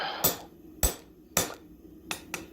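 Blacksmith hammer striking a punch through hot steel, four sharp ringing metallic blows spaced about half a second apart, then a softer double tap, close and clear with no talk.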